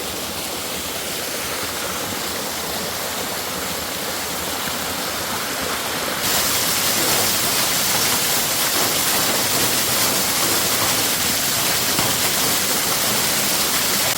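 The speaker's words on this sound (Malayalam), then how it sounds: "വെള്ളച്ചാട്ടം കണ്ടപ്പോൾ എൻ്റെ കൺട്രോൾ പോയി, ഞാൻ നനഞ്ഞു" A waterfall in misty hills roars as a steady, dense rush of water, close and loud, growing noticeably stronger partway through, with no voices.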